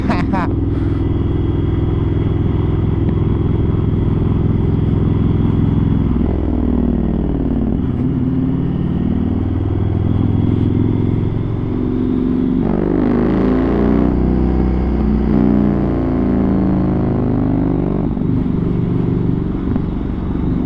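A loud first-generation Yamaha MT-01 motorcycle with an aftermarket Akrapovic exhaust idles with a deep, throaty rumble, then revs up and down several times, close by and steady throughout.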